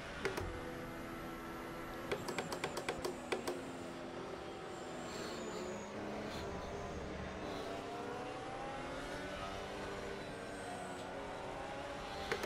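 Race car engines in a sim racing game whine and shift pitch continuously, rising and falling as cars accelerate, with a few sharp clicks and knocks early on, and no voice.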